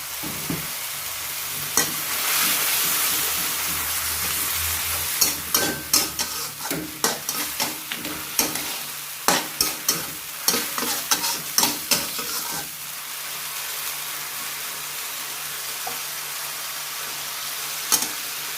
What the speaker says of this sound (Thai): คนให้เข้ากันค่ะ ใส่ซอสลงไปอีกนิดนึงค่ะ